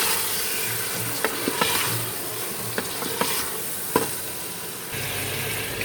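Mutton fried and stirred in a pot until the meat changes colour, a constant close frying hiss punctuated by several sharp spoon scrapes and knocks at irregular intervals.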